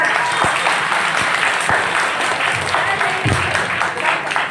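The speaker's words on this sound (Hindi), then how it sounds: "बस जोरदार तालियां हो जाए।" Loud, steady applause from a school audience at a student drama performance in Azamgarh fills the whole stretch, a dense wash of many hands clapping with no pauses.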